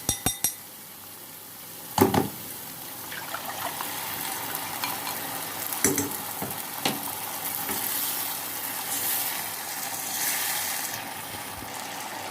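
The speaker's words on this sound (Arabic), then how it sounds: "ودلوقتي هنحط صلصه الطماطم." Tomato sauce goes into a pan of chicken kofta on the stove, bringing a few sharp clinks of utensils against the pan and then a soft steady sizzle and bubbling close up.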